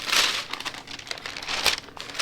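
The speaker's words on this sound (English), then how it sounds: "we're going to use parchment paper and place it on top" A sheet of parchment paper crinkles and rustles as it is handled and laid over a custom mouse pad on a heat press, in close, brisk bursts of crackling.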